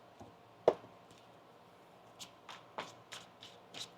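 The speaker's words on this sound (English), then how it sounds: "One more shuffle." Tarot cards shuffled by hand, a sharp riffle snap at first followed by several soft, scattered card slides and taps, close and quiet with no talking.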